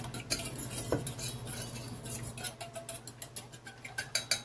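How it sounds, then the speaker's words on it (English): A fork stirring dry spices in a bowl, scraping and clinking against the sides in quick, irregular strokes, close and moderately quiet. "And I take a fork, I mix it all up to where it's all combined."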